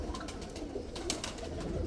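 Pigeons, including a red toofan cock with a hen, coo softly in a low, repeated murmur, faint and close with no talk over it.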